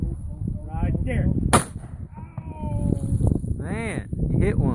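A shotgun fired at ducks during a duck hunt, with one sharp, loud blast cutting through wind noise as hunters talk and duck calls sound nearby.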